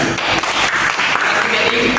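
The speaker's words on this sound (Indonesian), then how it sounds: "Oke, tepuk tangan." Classroom applause after a student's answer in a practice lesson, a short burst of many hands clapping at close range with some voices mixed in underneath.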